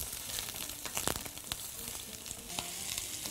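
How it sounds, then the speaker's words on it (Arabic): Cubes of meat seasoned with salt, pepper, spices and garlic sizzle steadily in a pan, a close, even frying hiss broken by a few sharper pops and stirring scrapes. "بصوا دلوقتي اللحمه اهي بنشوحها كويس قوي"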